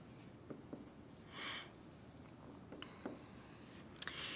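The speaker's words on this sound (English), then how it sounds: "Now, I'm going to erase what we know." Writing on a board in a maths lesson being erased, a faint close rubbing with a few soft swipes and taps in a quiet room.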